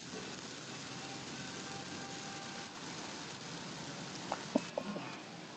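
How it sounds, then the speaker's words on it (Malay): Heavy rain pours down during a drive toward Ipoh, a steady, even hiss that continues unbroken, with a few brief knocks near the end. "lebat hujan ni"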